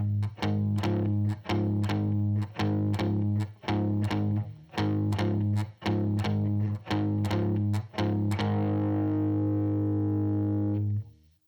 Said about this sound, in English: The boogie riff is usually played with a shuffle eighths feel, but instead of playing it using the down, up picking pattern we used before, let's try playing it with all downstrokes